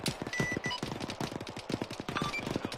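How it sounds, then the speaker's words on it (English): A ZU anti-aircraft cannon fires in the Arma 3 military simulation game, a rapid, sustained burst of heavy gunfire with dense repeated shots, moderately loud and continuous throughout. "ZU cannon is now effective again."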